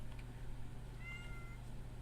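Cat in a video game meowing softly, a faint brief call over a steady loud low hum and background noise.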